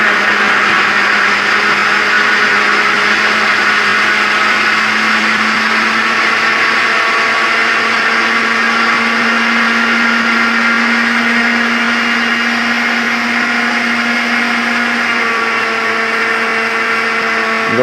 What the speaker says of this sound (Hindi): स्ट्रॉबेरी और चीनी को आपने अच्छी तरह ब्लेंड करना है